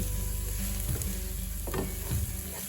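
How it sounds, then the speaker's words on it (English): Onions frying in a pan turn golden: a dense, steady sizzle with a few soft stirring scrapes, close and quiet, with no talk. "The onions are getting a little bit gold color."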